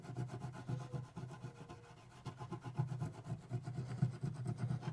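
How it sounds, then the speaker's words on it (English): A jewelry piece being sanded and burnished by hand, heard as soft, close, rhythmic rubbing and scraping strokes that repeat steadily with no talking. "It's another layer of the sanding almost, but it specifically gives a slightly burnished finish to the"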